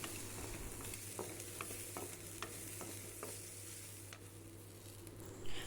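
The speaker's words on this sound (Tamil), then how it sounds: "இதையும் நல்லா ஓரளவுக்கு வதக்கி எடுத்துக்கலாம்" Thin coconut slices sautéing in a pan for radish chutney, a quiet, steady sizzle with repeated light stirring scrapes and taps of the spoon throughout.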